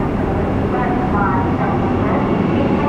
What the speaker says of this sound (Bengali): এই যে আজকে আমাদের বন্দে ভারত ঢুকছে